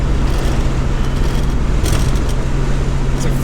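Steady road roar and engine hum from inside a Falcon car with a 15-year-old air ride system cruising the highway at about 55 to 60, continuous and loud, with no talking.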